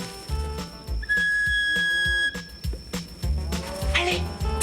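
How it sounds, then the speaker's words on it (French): A magic whistle sounds a long, steady high tone that glides slightly, joined by a second pitched note, over a busy animated-film music bed with soft percussive hits and clatter. "Grâce au sifflet magique que m'a donné le vieil Isaac."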